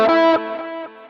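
Neo-classical electric guitar pedal-tone motif with distortion, a quick run of a few bright picked notes ringing over a sustained tone, fading out within a second.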